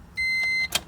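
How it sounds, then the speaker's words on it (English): The fuel pump of a K20-powered Honda Civic primes with a steady, high, thin electric whine that runs for about half a second, then cuts off, followed by a faint brief click, heard close by. "we're gonna prime the fuel pump"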